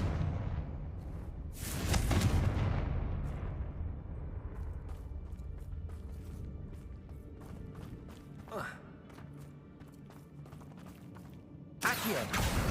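Confringo blasting-curse explosions in Hogwarts Legacy: a booming blast early on that slowly decays, scattered game clatter, then another sharp burst near the end.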